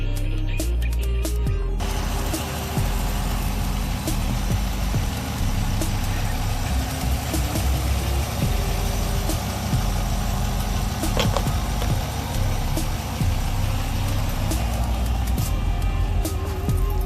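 A 2016 GMC Denali truck engine, just fitted with repaired injectors, cranks and catches, then settles into a steady, loud, close rumbling idle that runs on without talk.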